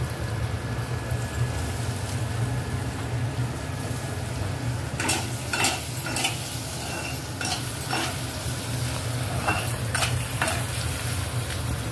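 Steady sizzling of food frying in a pan with bay leaves, with a few sharp stirring scrapes and clinks partway through; no talking.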